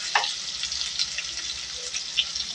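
Garlic and meat sautéing in a pan, a steady close sizzle with a faint crackle throughout and no talking.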